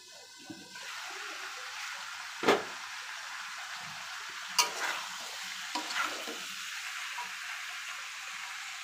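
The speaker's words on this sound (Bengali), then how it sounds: "এখন আর একটু কষায় নিব, কলার সাথে আর একটু কষায় নিতে হবে।" Rohu fish curry with green banana being sautéed in a kadai gives a faint, steady sizzle, broken by a few brief spatula scrapes and taps. No one speaks.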